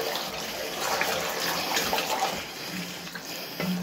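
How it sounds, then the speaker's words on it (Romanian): Water poured over pork in a cast iron pot with salt and pepper for a stew, a steady splashing pour that runs continuously at close range with no one speaking. "Și punem un pic de apă, năpustim un pic de apă peste aia,"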